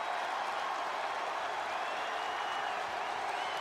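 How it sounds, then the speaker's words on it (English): A wrestling arena crowd cheers and applauds for the men's world championship match, a dense, steady wash of noise from many people, continuous and distant-sounding throughout. "Pretty split crowd here tonight"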